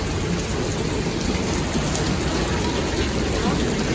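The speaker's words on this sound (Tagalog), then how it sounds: "Grabe, lakas ng ulan" Heavy rain hammers down in a dense, constant roar at Shifen Waterfall in Taiwan, loud and close, with no breaks across the whole stretch.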